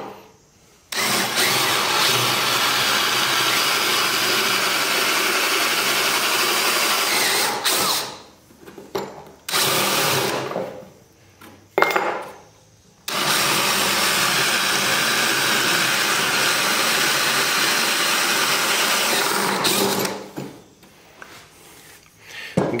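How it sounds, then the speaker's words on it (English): A power drill bores and steps up a hole for a roof bolt on a homemade barn door lock, running loud and steady in long bursts with short pauses between, then winding down near the end. "we got one hole drilled here"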